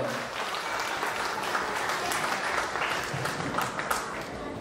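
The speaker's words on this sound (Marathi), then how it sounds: "तुमच्यासाठी एकदा जोरदार टाळ्या होऊन जावा." Audience applause at a real estate firm's 10th anniversary celebration, a steady sustained clapping from a crowd lasting the whole stretch, moderately distant.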